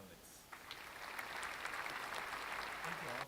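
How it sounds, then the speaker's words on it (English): An audience claps for a panel of speakers at an evening event, the applause swelling after a brief start and holding steady, fairly faint and distant, with some voices underneath. "So let's give a round of applause for Morgan, Chris, Riley, and Alex."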